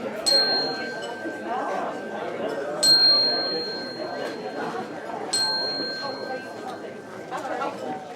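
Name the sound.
bell ringing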